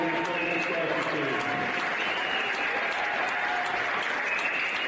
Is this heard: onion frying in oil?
no